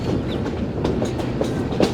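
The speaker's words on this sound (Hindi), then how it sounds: "तकरीबन 20 मिनट चलने के बाद ट्रेन हमारी पहुँच रही है गोल्डा शरीफ जंक्शन रेलवे स्टेशन पर" A safari train on the Rawalpindi to Attock line pulls into Golra Sharif Junction station, wheels clattering steadily over the rail joints with a loud, continuous rumble and no talking.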